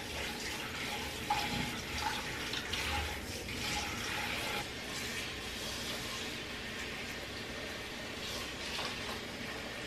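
Tap water runs steadily into a kitchen pot being filled to wash potatoes, a continuous close rush with small splashy changes as it fills.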